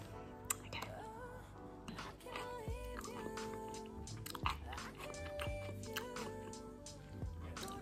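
Close, crunchy chewing and biting of baked kimchi mac and cheese repeat steadily, with soft clicks and mouth noises over a quiet background.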